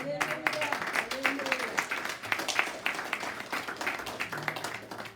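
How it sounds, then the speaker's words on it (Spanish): Church congregation applauding during a service, many hands clapping in a lively uneven patter with distinct sharp claps, while a voice talks over it. "Es muy lindo aplaudirlo"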